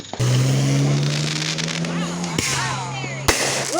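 Sharp Fourth of July firework bangs and crackling ring out over a low droning hum, with voices calling out between the blasts.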